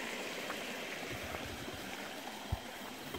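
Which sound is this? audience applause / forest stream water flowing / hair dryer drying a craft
forest stream water flowing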